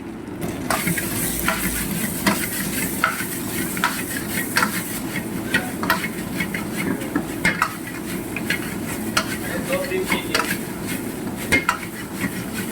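Cornflour-coated dhaba-style chicken lollipops tossed in a pan with fresh coriander, a continuous sizzle under repeated rhythmic scraping and clinks of a spatula against metal, close and steady for several seconds.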